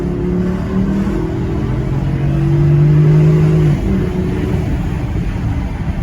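Interior drone of a Porsche Cayenne 955 driving after a prop shaft replacement: a steady low engine hum with a rising tonal whine as it accelerates, then settling, continuous road noise and no voices.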